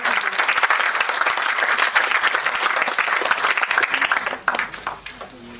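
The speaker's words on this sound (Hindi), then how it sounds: "तालियों से सर का स्वागत कीजिए।" A conference audience at a university in Jaipur applauds to welcome a professor to the stage, with sustained, dense clapping throughout and a brief fade near the end.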